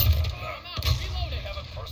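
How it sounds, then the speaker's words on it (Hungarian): A long-range gunshot in a video game gives a sharp crack followed by a rumbling echo, with a second shot near the middle and faint voices in the background. "Mondd azt, hogy ez távoli lövés volt."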